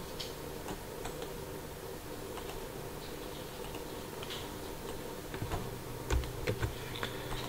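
Fast, light keystrokes on a computer keyboard while logging into a school portal, a quiet steady patter of clicks with a few louder taps near the end.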